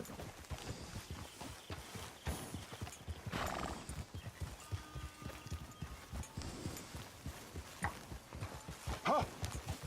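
Horse hooves clip-clop steadily at close range in the Red Dead Redemption II video game, with a horse whinnying partway through among rustling ambient sounds.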